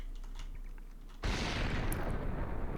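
In the RTX Remix path-traced Max Payne, quiet clicks and ambience give way to a sudden loud explosion that opens into sustained roaring gunfire and debris noise.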